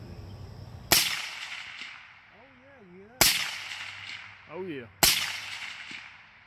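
Three sharp suppressed shots from a 300 Blackout rifle firing subsonic rounds, spaced a couple of seconds apart, each a loud crack with a short decaying tail, and a brief voice between the later shots.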